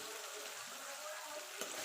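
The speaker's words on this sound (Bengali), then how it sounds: "এবার মিক্সির জারটা দিয়ে একটুখানি জল দিয়ে দেবো।" Water pours from a mixer jar into spiced masala of cumin, coriander and Kashmiri chilli powder in a pan, a steady soft splashing hiss throughout with a small bump near the end.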